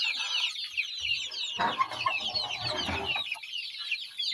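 Chickens cluck and chirp steadily inside a farm coop, a busy chorus of soft, close calls with no one talking.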